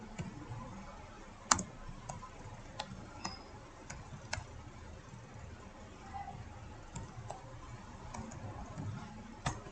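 Sparse key clicks and taps on a computer keyboard, a handful of sharp isolated strikes over a low steady room hum, quiet and close, with no talking.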